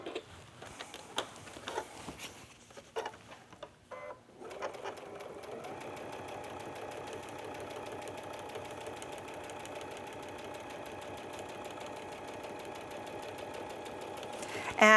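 A sewing machine stitches scallops on fabric, starting after a few seconds of handling clicks and then running steadily with a fast mechanical whir and ticking for the rest of the time, close and moderately quiet.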